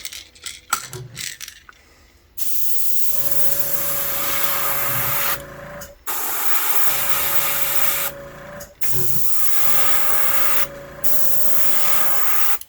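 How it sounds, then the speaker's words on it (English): Spray gun laying a coating on a vintage Wiggle Wart fishing lure, several long hissing bursts of a few seconds each separated by short pauses, preceded by small clicks and handling noises. "I'm keeping the gun away from the lip as I'm spraying this."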